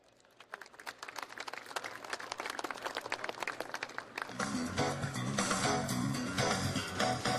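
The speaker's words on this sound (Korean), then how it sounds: "박용호 명사님을 큰 박수로 환영해 주시기 바랍니다" Applause from a festival audience greeting a KakaoTalk ambassador taking the stage for a keynote, starting as scattered claps and swelling into dense, loud, sustained clapping from a large crowd.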